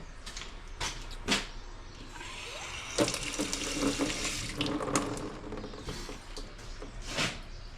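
Water switched on and running through a pipe temporarily pinched shut with a clamp, with intermittent hissing bursts, creaks and mechanical knocks alongside a faint, uneven trickle, close and quiet.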